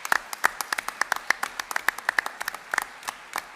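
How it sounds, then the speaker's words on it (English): A school board meeting audience gives a short round of applause: sparse, fairly distinct claps from a modest crowd, steady for a few seconds with no one speaking. "Please join me in giving them a warm round of applause."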